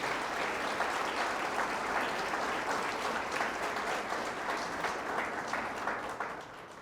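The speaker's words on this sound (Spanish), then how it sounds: "denle el aplauso al Señor." A church congregation at a Spanish-language Christian service breaks into full, sustained applause, a dense and even roar of many hands clapping together that eases off slightly at the end.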